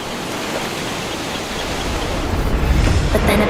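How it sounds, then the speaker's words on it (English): Loud, constant roar of wind and crashing water, dense and unbroken, swelling slightly stronger toward the end. "High winds and waves came over the side of the boat"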